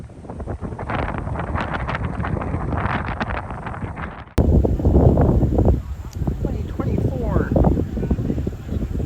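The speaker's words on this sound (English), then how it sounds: "It's a little bit windy out." Gusty wind buffets the microphone in a steady roar, with broadband rumble throughout and a sharper burst of noise about halfway through.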